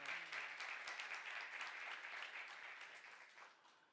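A church youth congregation at a Korean sermon breaks into sustained clapping, steady and fairly faint, fading gradually at the close.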